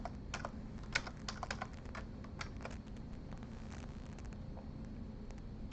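Typing a password on a computer keyboard during a network lab setup, a steady run of quick clattering keystrokes with a few louder taps, close up over a low background hum.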